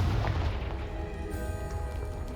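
Confringo blasting spell explosion in Hogwarts Legacy, a low booming blast followed by a rumbling, debris-like tail that lingers for a couple of seconds, moderately loud with no speech.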